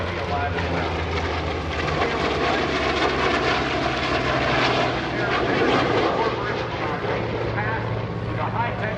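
F/A-18F Super Hornet jet at the NAS Oceana airshow: a steady, loud engine roar that fills the scene throughout, under the voice of an announcer speaking over a public address system.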